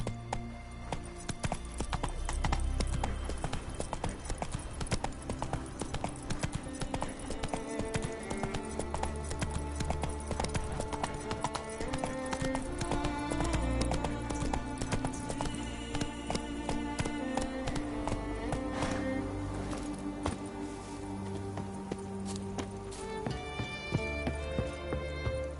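Geralt's horse Roach gallops in The Witcher 3, hooves drumming in a fast steady rhythm beneath a continuous music score and game ambience, with brief voices.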